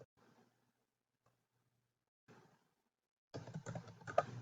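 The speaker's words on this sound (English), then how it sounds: "you want to type the name of your town" Typing on a computer keyboard, entering a town name into a document: a short burst of soft keystrokes, a pause, a brief second burst, then a louder, denser run of clicking close by.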